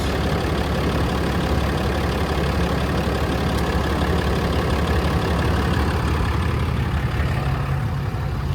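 Engine of a 2012 RAM 5500 4x4 mechanics service truck idling, a steady, even low rumble running on without change, fairly loud and close with no speech.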